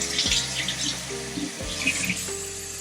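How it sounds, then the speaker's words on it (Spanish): Cold tap water runs steadily into a sink while a dental retainer is rinsed under it, giving a close, continuous splashing hiss with small shifts in the flow. "Ahorita lo voy a lavar con agua helada."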